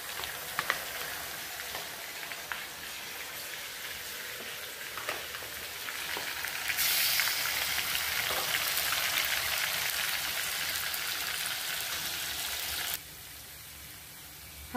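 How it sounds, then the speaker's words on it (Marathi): Ginger garlic paste added to onions frying in a pan makes a dense, steady sizzle with crackling pops, growing louder partway through and then dropping back, heard close with no talk. "आता आपण त्याच्यात आले लसूण पेस्ट टाकू."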